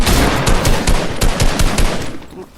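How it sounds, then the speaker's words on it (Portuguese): Rapid bursts of Fortnite gunfire crackle in quick succession, loud and close, with a dense rattling rhythm like automatic weapons. "eu tô escutando uns tiros"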